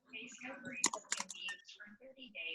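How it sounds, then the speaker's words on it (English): Quick keyboard typing clatters in bursts during a group meeting call, mixed with people talking close by. "All right, I'm typing who's Galaxy."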